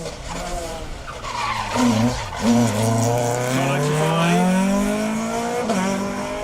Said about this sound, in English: Philip Hamilton, Joe Comerford in their Escort Mark II. Just the 2 litre for Philip under his right foot.